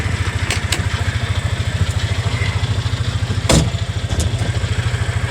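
Close by, the fuel-injected engine of a Hisun UTV idles with a steady, rapid putter, broken by one brief clattering burst near the middle.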